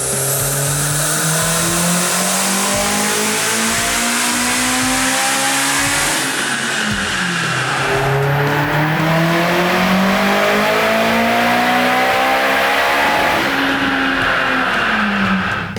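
Turbocharged Mitsubishi Lancer Evo X engine at about 29 psi of boost, loud and continuous, its tone climbing and falling through repeated high-rev pulls with a bright whine on top and no talking.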